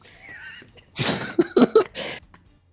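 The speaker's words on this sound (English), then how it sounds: "clear your throat" A person clears their throat with a few rough, close bursts, following a faint hum.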